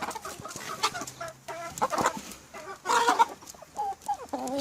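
Chickens and a rooster cluck in short, irregular bursts close by, overlapping calls from a backyard flock raised from hatched chicks.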